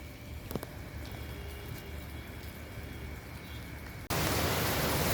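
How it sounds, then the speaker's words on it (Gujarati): Heavy rain pouring outdoors, a dense steady wash of noise that suddenly grows louder and fuller near the end. "હવે આપ જોઈ શકો છો વરસાદ પડે છે, બહુ વરસાદ પડે છે."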